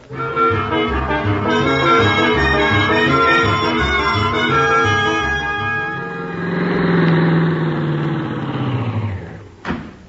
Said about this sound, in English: Start the car, Miss Brooks.